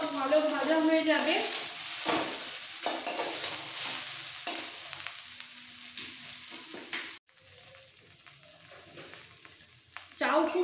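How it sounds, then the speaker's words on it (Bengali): Egg chowmein with chopped capsicum, onion and other vegetables being stir-fried in a pan, a steady close sizzle with stirring scrapes running throughout while someone talks over it. "চাউ খুব সুন্দর ভাজা হয়ে গেছে,"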